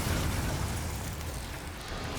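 A Confringo fire spell exploding in Hogwarts Legacy: a loud, dense, continuous roaring blast that holds steady and fades slightly toward the end, with no talking.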